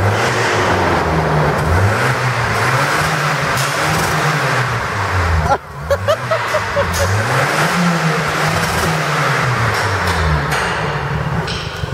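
A car engine fitted with a new sidepipe exhaust revs in loud, rising and falling surges, with a brief dip partway through before the revving resumes.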